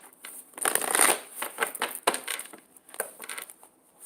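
Tarot cards being shuffled in quick, papery riffles and slides, a burst of rustling near the start followed by shorter irregular flicks, close and fairly quiet with no talking.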